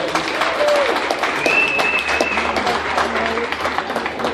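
Audience applause at a recovery festival ceremony, steady and moderately loud, with scattered shouts and whistles from the crowd mixed in.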